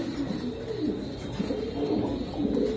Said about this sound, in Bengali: এই দেখ ব্ল্যাক পেসারটা, এরকম টস করা কবুতর